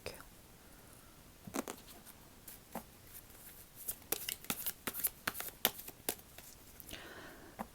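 Playing cards dealt one by one during a Korean tarot reading, a string of crisp close flicks and slaps that speed up into a rapid patter midway, quiet and without talk.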